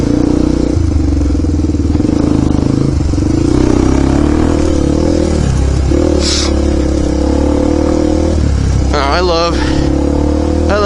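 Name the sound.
dirt bike engine revving while riding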